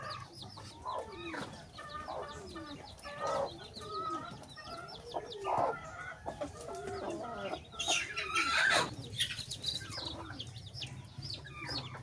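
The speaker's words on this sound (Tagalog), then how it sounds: "So napakagandang mga sisiw ng mga agaw." Newly hatched Joloano breed chicks, eight from eleven eggs, cheep in a dense chorus of high, rapid peeps with bursts of clucking from hens nearby, steady and close throughout.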